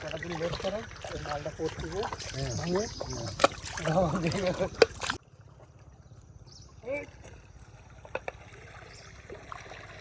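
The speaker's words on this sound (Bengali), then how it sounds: "আজ তিনজনে মিলে নৌকাটা ঠেলছি বলে" A boat pushed along a river moves through water with soft splashing and lapping. People talk over the first half, then quieter water sounds remain.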